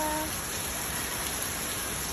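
Heavy rain pours steadily in Honolulu, a dense, even hiss of drops hitting surfaces close by, unbroken for the whole stretch with no voices.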